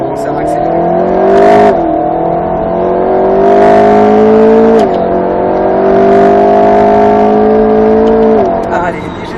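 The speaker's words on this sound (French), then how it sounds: "Et là vas-y derrière, tu peux commencer à accélérer." An Alpine A110 S accelerates on a race circuit, its engine note climbing through gears in rising sweeps with brief dips at each shift, loud and close as if from inside the car.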